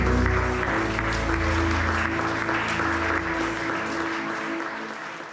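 A church congregation applauding during worship: sustained, dense clapping with steady musical tones beneath it, holding level before slowly tapering off near the end.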